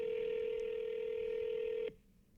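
A telephone line tone holds as one steady beep that runs loud and unbroken, then cuts off abruptly and leaves faint line hiss.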